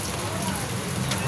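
Rain falls steadily outdoors in Manila, a dense, even hiss that fills the brief moment, with voices faintly underneath.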